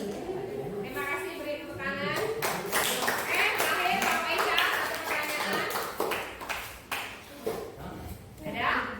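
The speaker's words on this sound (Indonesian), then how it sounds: "beri tepuk tangan" Applause from a classroom audience at a school teachers' program event in Karimun, Indonesia: a sustained burst of many hands clapping, fairly close, with voices talking over it throughout.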